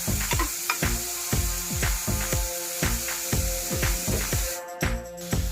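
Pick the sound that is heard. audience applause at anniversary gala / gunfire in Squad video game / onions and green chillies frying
onions and green chillies frying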